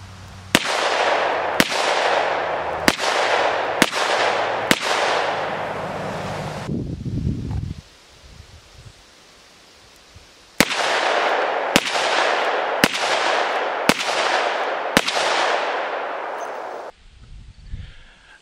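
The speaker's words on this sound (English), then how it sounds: "I'm gonna go mark those so that I can shoot five more at the chest and five more at the head" Ruger SP101 .357 Magnum revolver fired outdoors in two strings of five sharp, loud shots at a steady pace, separated by a quiet pause with faint rustling.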